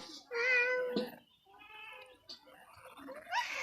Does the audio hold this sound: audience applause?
no